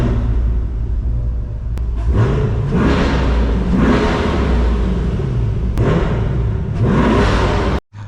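A 2023 Chevy Corvette engine revs repeatedly while the car sits with the brake held, each blip rising and falling over a deep, steady rumble, loud and close, ending with an abrupt cut.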